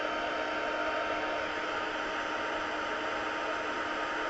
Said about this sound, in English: you can hit it with your heat tool and it'll just help it.